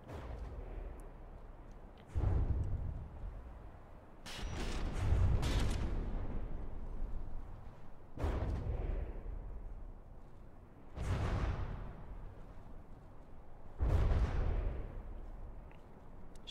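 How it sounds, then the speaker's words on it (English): Heavy flak and artillery fire in the naval battleship game From The Depths: about six deep, booming blasts spaced a few seconds apart, each with a rumbling tail, loud and with no speech over them. "lots of flak, not a lot of damage, but lots of flak"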